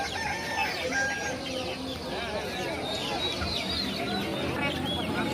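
Chickens cluck and squawk continuously amid a busy crowd at a livestock market in Birohi, with voices chattering in the background and occasional rooster calls.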